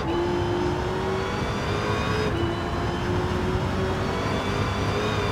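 Dodge Challenger SRT Demon in Gran Turismo 7 at the Nürburgring, its engine holding a loud, steady high-revving whine throughout, with one brief dip around a gear change midway before the pitch climbs again.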